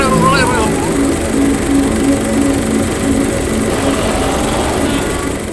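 The engine of a 1969 Nissan Gloria car drones steadily with a rough, buzzing exhaust rattle, close and loud throughout, with faint chatter underneath.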